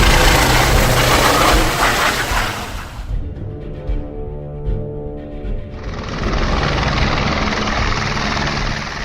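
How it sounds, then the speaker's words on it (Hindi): Helicopter service at Kedarnath Dham, a loud rotor and engine roar close by that dips briefly to a throbbing, thinner whir before swelling back to a full, steady drone. "केदारनाथ धाम में चलने वाली हेलीकॉप्टर सर्विस की मनमानी अब भारी पड़ने लगी है।"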